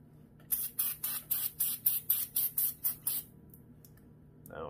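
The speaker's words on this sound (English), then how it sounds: "Spray cleaner." Cleaner is sprayed onto parts of an old 1980s motorcycle in a garage, a quick run of about eleven sharp, evenly spaced trigger-spray bursts, close and fairly loud, followed by light handling noises.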